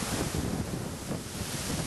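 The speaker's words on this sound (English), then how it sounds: "as you can probably hear and see, it's incredibly windy" Strong southwest wind roars and buffets a microphone outdoors during an elk hunt, a continuous loud rushing with no voices.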